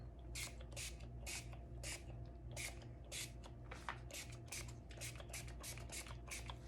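A hand sprayer fires 99% rubbing alcohol into the cavities of a soap mold in a quick run of about fourteen short, faint hissing bursts, close by with no talking.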